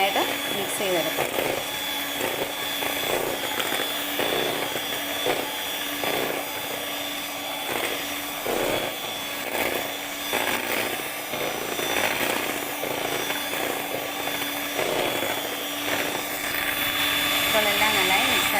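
An electric mixer whirs steadily at slow speed while blending mango ice cream batter, a continuous mechanical drone with faint rubbing, running throughout alongside occasional talk.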